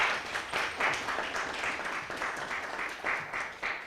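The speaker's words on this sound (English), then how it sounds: "Let's give him a round of applause again" An audience at a business lunch event gives a round of applause, continuous dense clapping at a steady level for the whole stretch.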